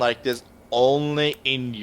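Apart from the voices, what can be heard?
No everyday noise stands out behind the speech.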